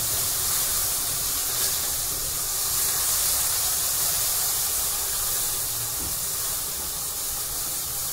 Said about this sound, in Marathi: हा मसाला आपल्याला चांगला तेलामध्ये व्यवस्थित परतून घ्यायचा आहे.